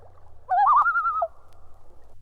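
A common loon gives a single type 3 tremolo call, a clear, rapidly wavering cry lasting under a second that rises in pitch, heard alone against a quiet background.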